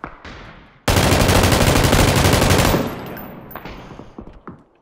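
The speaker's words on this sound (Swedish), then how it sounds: "Har någon skjutit på mig, men jag vet inte vad det är." Loud, dense burst of automatic gunfire in the battle royale game PUBG, a sustained rapid volley of about two seconds followed by scattered fainter shots and game sounds.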